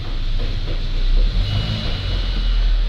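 A UAZ Patriot engine pulls away in 4 low, a loud, steady low rumble with a slight rise in revs midway, close by and without talk.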